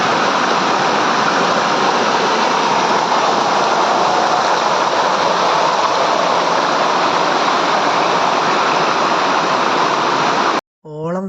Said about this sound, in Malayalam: വെട്ടുന്ന തിരമാലകളെ പോലുള്ളൊരു സൗണ്ടും നിങ്ങൾ കേട്ടില്ലേ